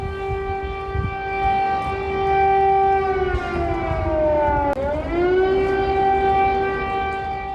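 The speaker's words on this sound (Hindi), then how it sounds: "कीव में लगातार अलर्ट का सायरन बज रहा है।" A loud, sustained wailing air raid siren in Kyiv holds a steady pitch, dips briefly midway, then rises again, sounding alone without any voices.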